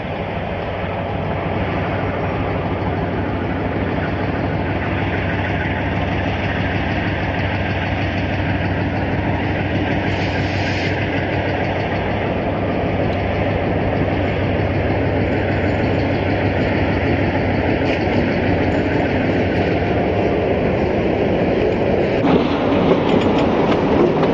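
A Pacifico Railroad mixed train, number 27, with a second-class coach on the rear of a local freight on the Ameca branch, rumbles steadily and loudly throughout with constant wheel and engine roar.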